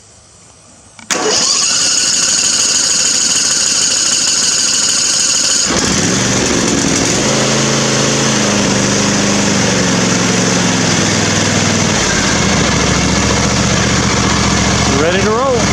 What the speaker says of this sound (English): We'll do a cold start, get it running.